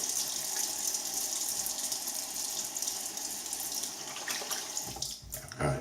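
Water runs steadily from a bathroom tap while shaving soap is being lathered, a continuous hissing splash close by that ends with a brief gurgle and a thump.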